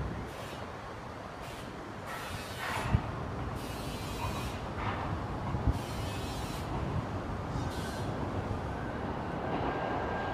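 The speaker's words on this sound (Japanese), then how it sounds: "1番線通過列車です。ご注意ください。" A low, continuous rumble of a JR E657 series Joban limited express train passing through Shimbashi station without stopping, fairly distant, with a few sharp clanks and bursts of brighter rushing noise.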